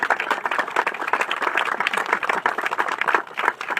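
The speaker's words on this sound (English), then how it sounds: "I'd like to give a round of applause to Suzanne O'Neill." Ceremony audience applauding steadily at a rail-trail hall of fame induction, dense overlapping claps sustained at fairly loud level throughout with no speech over it.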